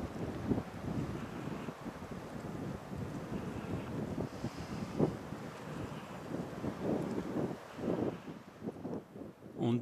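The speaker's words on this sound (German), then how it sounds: "kalter Wind zu wehen" Strong, cold wind blows across a rocky mountain ridge on the Balberstein in the Gutensteiner Alps, a steady, close buffeting rush that roars against the microphone throughout with gusting swells.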